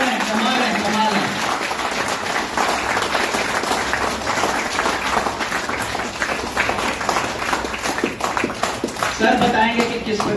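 An audience at a network marketing seminar applauds steadily, many hands clapping in a dense, continuous patter for about ten seconds, with a voice talking over it through much of the stretch.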